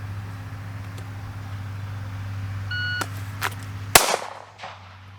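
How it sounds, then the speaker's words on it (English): A shot timer gives a short electronic beep to start a dry-fire pistol draw from appendix concealment, followed by a sharp loud transient and a few fainter clicks, over a steady low hum. "So let's time that, see where we're at on the shot timer."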